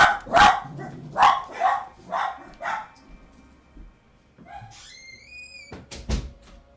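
Dogs bark from under a desk indoors in a string of sharp, close barks, about five in quick succession, followed by a short whine, a creak, and a couple more barks at the end.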